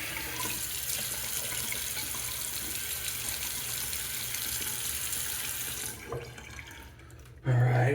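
Bathroom faucet running steadily for a rinse during a wet shave, a close, constant rush of water that cuts off near the end, followed by a brief low hum.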